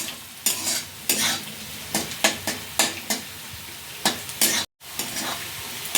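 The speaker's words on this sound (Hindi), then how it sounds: "2 मिनट इसे हम भून लेंगे, साथ में गैस का फ्लेम मीडियम करते हुए" Spices roast in a pan over a medium gas flame, a spatula stirring in steady repeated scrapes over a continuous sizzle, close and fairly loud with no voices, briefly cutting out near the end.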